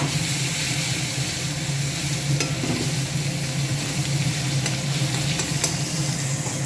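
Chopped tomato frying in hot oil with cloves, cardamom and cinnamon gives a steady, dense sizzle with soft stirring scrapes, continuous and close throughout.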